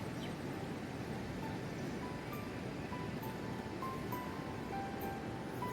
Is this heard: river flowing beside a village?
yes